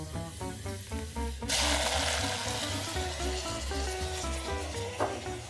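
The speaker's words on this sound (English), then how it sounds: "And stir really well." Pasta stirred in a pot with garlic browned in oil, chili flakes and parsley, off the heat: a close, steady wet sizzle and scraping stir runs throughout, with a louder burst of sizzling partway through.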